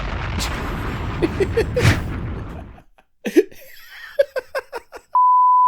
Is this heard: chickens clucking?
no